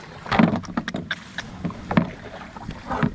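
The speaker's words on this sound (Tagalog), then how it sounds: "Eto, mananagwan ulit tayo." Oars dipping and knocking against a small wooden fishing boat at sea, its engine dead, making a few separate splashes and wooden thumps close by in an irregular rhythm, with no talk.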